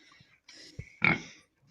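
Pigs grunt and snort in a few short, close bursts, the last one louder and rougher.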